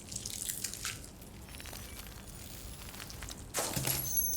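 A crunchy, squishy sound from the video game Detroit: Become Human comes as faint wet crackles and drips, ending in a sharper, louder crunch near the close.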